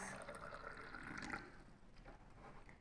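Water poured into a small measured solution in a school science demonstration, a soft steady trickle for about a second and a half, then fading into quiet room noise.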